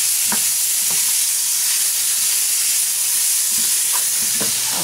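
Sausage meat and onion frying in a pan give a steady, loud sizzle throughout, with a few scraping stirs of the utensil cutting through the hiss.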